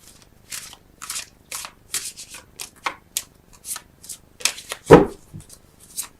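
Tarot cards being drawn from a deck during a love reading, making a series of soft papery swipes and flicks spaced about half a second apart, with one louder slap near the end.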